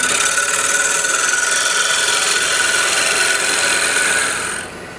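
A skew chisel faces a sacrificial wooden glue block spinning on a lathe, giving a continuous, close, scraping whirr with a faint tonal ring that holds steady for several seconds, then tails off as the cut stops. No one speaks.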